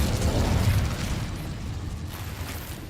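The Incendio fire spell is cast in the video game Hogwarts Legacy, producing a dense rumbling whoosh of flame with a burst-like onset that tapers over a few seconds, heard alone.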